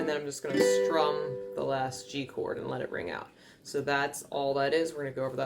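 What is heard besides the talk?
No everyday noise stands out behind the speech.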